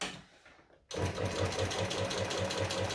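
A sewing machine with a walking foot stitches along the edge of fabric, starting abruptly after a quiet rustle and running in a steady, rapid mechanical chatter, close and loud.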